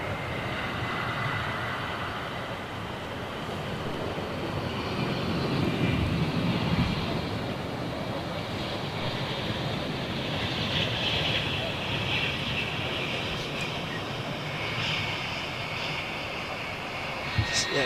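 A distant Ilyushin IL-76 jet aircraft passes, its engines producing a continuous broad roar that stays steady and fairly loud throughout.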